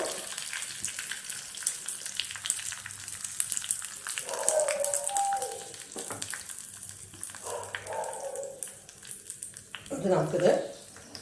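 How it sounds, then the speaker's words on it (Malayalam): Mustard seeds splutter and crackle in hot coconut oil for a homestyle green mango curry, a steady close sizzle with scattered pops, while a few louder clatters of utensils break in near the middle and end. "നമ്മൾ നന്നായിട്ട് നോക്കട്ടെ കടുക് പൊട്ടിക്കൊണ്ടിരിക്കുന്നുണ്ട്"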